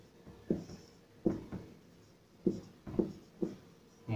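A pen writes Hindi shorthand on paper in a few quick, soft, close strokes and taps, spaced unevenly with brief pauses between marks.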